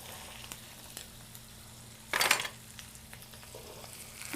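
Ground beef kitfo cooking in a pan with butter and mitmita spice, a soft sizzle under a low hum, with one sharp, loud burst of frying and stirring in the middle, then quieter crackles.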